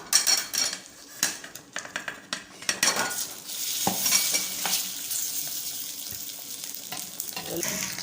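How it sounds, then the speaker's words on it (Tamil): Aval rava balls stirred in oil with sambar powder in a pan, a close sizzle with clattering spatula scrapes against the metal pan in uneven bursts, no talking. "சாம்பார் பொடியை எண்ணெயிலே சேர்த்துட்டு ஒரு தடவை கலந்து விட்டுக்கோங்க"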